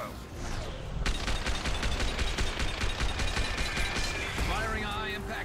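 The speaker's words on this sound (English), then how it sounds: "Firing a high impact shot." Rapid automatic gunfire from the video game Mass Effect 2 rattles in a dense, sustained burst after a quieter start, with game voices talking over the shooting.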